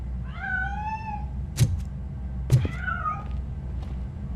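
A cat in the video game Robocop: Rogue City meows in two clear, drawn-out calls, separated by a pair of sharp thuds, close and alone against a low steady hum.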